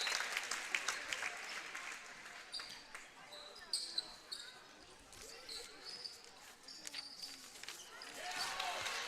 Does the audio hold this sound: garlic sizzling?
no